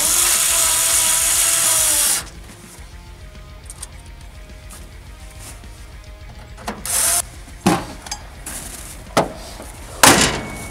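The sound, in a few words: reinstalling grill screws while installing KC 7-inch LED headlights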